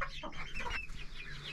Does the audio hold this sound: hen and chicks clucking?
yes